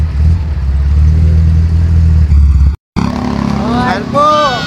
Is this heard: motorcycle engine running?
yes